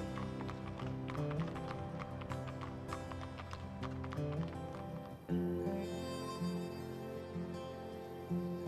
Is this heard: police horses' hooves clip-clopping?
yes